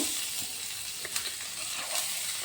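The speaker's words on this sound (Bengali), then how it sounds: "এখন আমি তেলের মধ্যে দিয়ে দিচ্ছি প্রথমে পেঁয়াজ কুচনো" Chopped onion frying in about a spoonful of hot oil for homemade pasta gives a steady close broadband sizzle, with a few soft stirring scrapes breaking through now and then and no talking.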